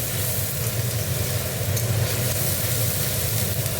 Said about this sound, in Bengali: পেঁয়াজটা আগে একটু ভালো করে ভেজে নেব।